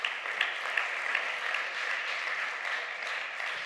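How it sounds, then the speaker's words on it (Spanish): Church congregation breaking into applause, a continuous even patter of many hands clapping at moderate loudness for several seconds, with no voices over it. "Dar un aplauso a Dios por su palabra"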